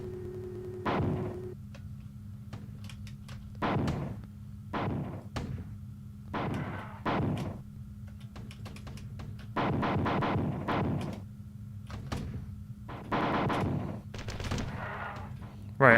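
Repeated shotgun blasts in the classic first-person shooter Marathon 2, firing in quick, irregular bursts of several loud, sharp shots, with game background noise running steadily underneath.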